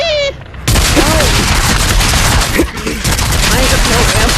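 Dense, continuous gunfire from a multiplayer video game rattles loudly and without break, with game sound effects mixed in.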